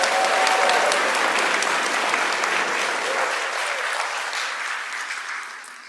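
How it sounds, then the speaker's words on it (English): Sustained applause from a large audience at a university pharmacy school commencement ceremony, dense and steady before tapering off near the end, with a brief voice faintly underneath. "let's give him a big round of applause."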